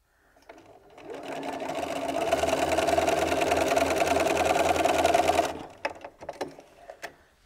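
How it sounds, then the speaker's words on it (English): A sewing machine stitches quilt jelly roll strips in one continuous close, whirring run of about four seconds. It then stops, and a few light handling clicks and knocks follow. "Then you would do your sewing across at a diagonal."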